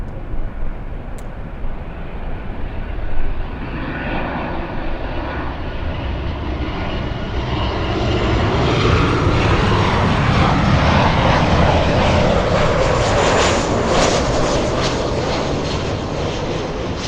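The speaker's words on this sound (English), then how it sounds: "we'll zoom in to the 787 flying in from London." A Boeing 787 Dreamliner arriving at LAX from London roars steadily overhead, its jet engine noise swelling louder midway as it nears, then holding a broad, continuous rumble with no voices.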